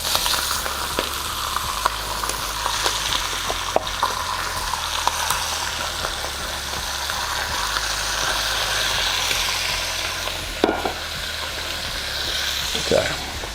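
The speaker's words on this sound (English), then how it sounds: "You can hear them already starting to sizzle." Chicken thighs sizzle in hot oil in a pot for arroz con pollo, a loud continuous frying crackle with occasional clinks, steady throughout.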